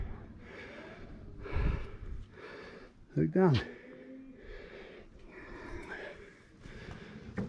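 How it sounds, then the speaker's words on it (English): Heavy, labored breaths from a person after climbing stairs to a lookout on Mae Ko island, a few audible gasps and sniffs between short spoken remarks, close to the microphone. "excuse my heavy breathing"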